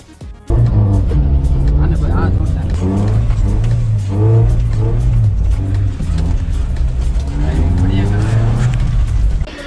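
A car engine revs loudly and continuously on a snowy mountain road near Manali, a strained rising and falling roar throughout, with people talking and shouting nearby.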